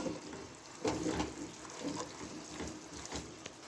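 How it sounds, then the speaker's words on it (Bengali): A bowl being rinsed with running water from a tap in a home kitchen, with splashing and small knocks in uneven bursts at moderate loudness. "বাটিটা ধুয়ে একটু জল দিয়ে দিলাম।"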